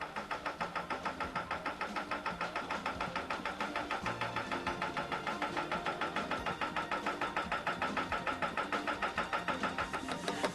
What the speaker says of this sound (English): With the Pipeburst winch cable taut, the valve on the oiler was opened, starting the ramming action of the tool.